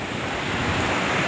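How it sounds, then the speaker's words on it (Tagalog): Strong ocean waves surge beneath a bridge, a dense, continuous roar of surf with wind buffeting the microphone, loud and close with no voices. "Lakas ng alon."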